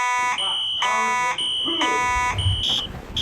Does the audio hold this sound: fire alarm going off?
yes